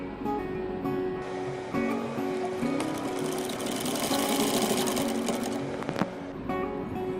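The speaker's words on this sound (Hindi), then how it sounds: "चलिए अब हम लेस को इसके साथ स्टिच करते हैं।" A sewing machine stitches lace onto the V-neck of a garment, running steadily and loudly for the whole stretch with a continuous whirring motor drone and no speech.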